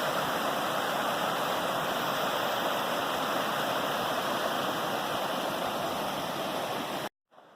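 Water from a brook rushes steadily over a beaver dam, a dense, loud, continuous close-up roar and splash with no pauses until it cuts off abruptly at the very end.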